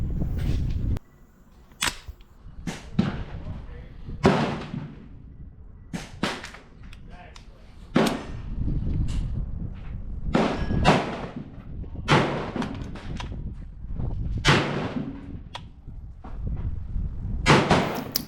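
A Radical Firearms 7.5-inch AR pistol with a short, light barrel fires a dozen or so loud, sharp shots spaced irregularly outdoors, each with a quick echoing tail and faint mechanical clatter between them.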